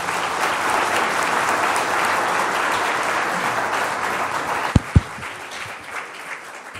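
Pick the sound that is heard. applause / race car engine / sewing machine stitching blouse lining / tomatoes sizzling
applause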